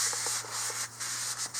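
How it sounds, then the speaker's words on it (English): A rag is rubbed briskly across a new brake rotor with cleaning solution, giving a steady close-up scrubbing hiss in short strokes with brief pauses. "So we've got the new rotor, just going to clean it off with a solution."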